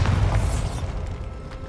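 Bombarda spell blast in the video game Hogwarts Legacy: a single loud, booming burst with a sharp onset that decays into a low rumbling tail.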